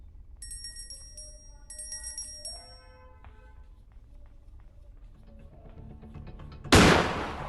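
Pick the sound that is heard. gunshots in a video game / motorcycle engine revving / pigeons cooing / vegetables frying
gunshots in a video game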